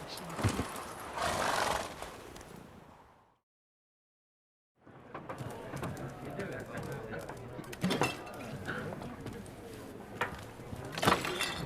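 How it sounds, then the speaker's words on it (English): In The Witcher 3 video game a horse neighs and trots with clip-clop hooves, loud then briefly silent before resuming amid game ambience and clattering. "Whoa there, Roach."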